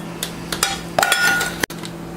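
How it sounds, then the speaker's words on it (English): Food for cream cheese stuffed peppers being moved into a bowl, with a few close clinks and knocks of utensils against the dish, then a brief scrape before a sudden cut. "now take this and put it into a bowl"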